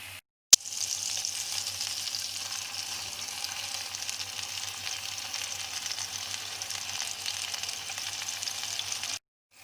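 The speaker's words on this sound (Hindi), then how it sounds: "इसको मीडियम टू लो आंच पर 10 से 12 मिनट फ्राई करेंगे," Chicken reshmi kababs frying in a pan over medium-low heat, giving a steady, even sizzle that runs close and continuous for several seconds.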